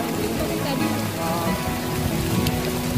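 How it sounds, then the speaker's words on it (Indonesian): Rain falls steadily on a forest trail on Mount Gede, reached via the Putri route, as a dense continuous patter, with muffled voices faintly underneath. "hujan datang tanpa adanya rasa malu"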